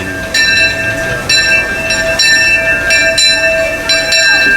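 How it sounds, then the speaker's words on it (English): The Disneyland Limited train at Disneyland rumbles close by as ringing bell tones strike again and again, loud and steady. "And here comes that train."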